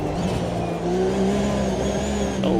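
A GT3 race car engine drones loud and close in Automobilista 2 during a DTM race, holding a steady high-revving tone that climbs slightly, with a brief tire squeal near the end.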